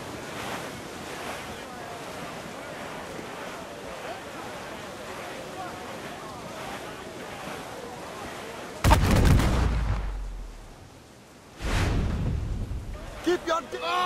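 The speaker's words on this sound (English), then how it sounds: "Mortars incoming!" Mortar fire in the Assassin's Creed IV Freedom Cry naval game, heavy booming blasts cutting through steady ocean surf and wind, with crew voices shouting over the battle noise.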